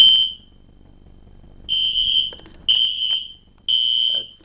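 A smoke detector sounds during a fire alarm system test, giving four loud, steady high-pitched tones, the first short, then three more at roughly one-second intervals, with faint clicks and handling noise between them.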